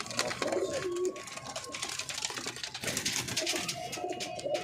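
Pet pigeons cooing nearby in soft, repeated throaty calls over a quiet background, with no speech.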